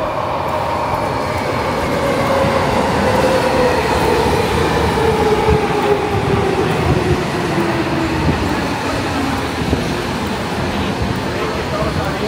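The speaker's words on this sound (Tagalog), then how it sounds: "dumating na yung tren" A train pulls into Tokyo DisneySea station, a loud, close, continuous rumble of wheels and rail noise with a faint descending brake whine as it slows, voices murmuring underneath throughout.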